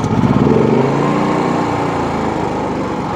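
Predator 9500 watt super quiet inverter generator engine running after a choked restart, a loud, close, steady small-engine drone that surges slightly at first and then settles.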